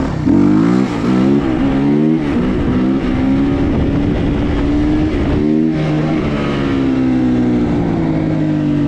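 A KOVI 300 Lite R motorcycle accelerates hard in third gear, its engine note climbing steadily in a loud, close, continuous whine with a brief dip around the midpoint before pulling upward again; no voices are heard.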